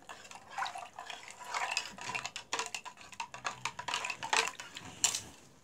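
Sugar, yeast and milk being stirred together in a bowl, a quick run of light spoon clinks and liquid sloshing with an uneven rhythm, close and fairly quiet with no talk.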